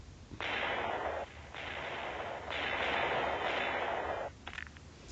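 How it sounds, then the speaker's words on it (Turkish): A long, roaring blast of noisy rumble that swells in several surging waves over a few seconds, loud and sustained, from a TNT explosion in Minecraft Pocket Edition. "Meteor gerçekten güçlü bir TNT"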